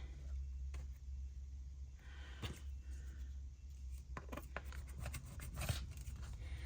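Rather blunt scissors cutting a small piece off one thin piece of fabric for a log cabin block jacket, giving a few soft, close snips over a steady low background hum.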